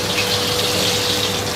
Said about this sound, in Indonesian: Minyak masuk.